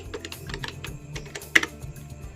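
Someone types a command in Termux on a phone, making a string of quick, soft key taps at an uneven pace and close by, with one slightly louder tap near the end and no voices.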